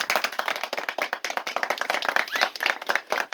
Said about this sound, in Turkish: Bir alkış yapın arkadaşlar